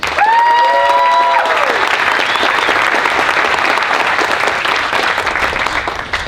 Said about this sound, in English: Why is it she always gets a better applause than